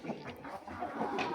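Roosters and other fowl kept as fighting birds give brief clucks and calls, faint and somewhat distant, scattered over a quiet background.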